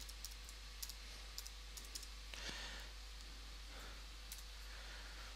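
Light typing on a computer keyboard, with scattered soft clicks and a few taps spread over a few seconds, faint and close under low background hiss.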